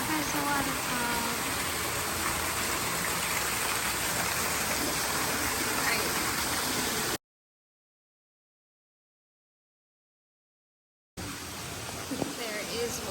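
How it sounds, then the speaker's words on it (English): A waterfall in Shinjuku, Tokyo rushes with a steady, broad hiss of falling water, loud and close, broken by a few seconds of total silence before resuming. "There's a waterfall."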